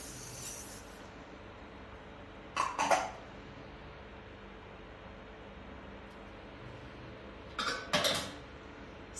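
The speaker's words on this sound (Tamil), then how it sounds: "உளுத்தம்பருப்பு போட்டுக்கலாம்." Urad dal is tipped into a cooking pan in two short bursts, each a quick clatter and sizzle against the pan, over a low steady background hiss.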